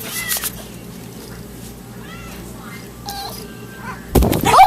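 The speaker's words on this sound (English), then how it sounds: "She just threw a cat at me" A cat meows and caterwauls several times in short, mid-distance cries over a quiet room, ending with a loud thump and scuffle.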